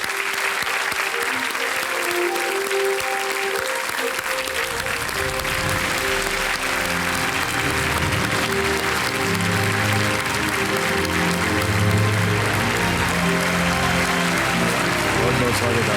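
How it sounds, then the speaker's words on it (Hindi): A television quiz show studio audience applauds contestants as they arrive, loud sustained clapping that runs the whole way through with a bright musical fanfare swelling beneath it. "डॉक्टर बृजमोहन भारद्वाज और डॉक्टर माधुरी भारद्वाज का तालियों के साथ अभिनंदन।"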